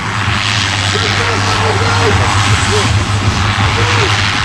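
Pilatus propeller aircraft on a very short landing at an air show, its engine droning steadily and loudly throughout with a constant low hum and broadband roar, while a commentator talks over it.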